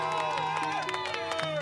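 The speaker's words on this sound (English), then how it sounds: "Friends and family of the victim cheering" Friends and family of a victim erupting in cheers after a court verdict, a dense crowd of whoops, shouts and scattered clapping that holds steady and loud throughout.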